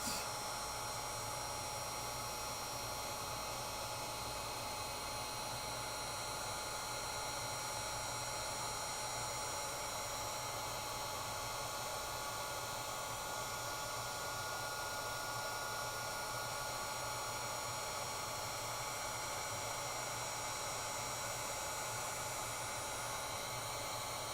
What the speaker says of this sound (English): heat up your heat gun before you bring it to the project